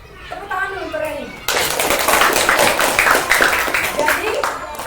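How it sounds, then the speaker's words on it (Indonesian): A school class claps for a student: a voice speaks briefly, then a burst of close, uneven clapping from many kids breaks out and continues with some chatter underneath. "tepuk tangan dulu untuk Reni"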